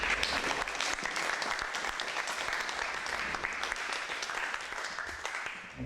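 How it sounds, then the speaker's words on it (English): An audience at a Belfast event on Irish music applauds with dense, steady clapping that holds through the whole stretch and fades slightly at the end. "just a round of applause"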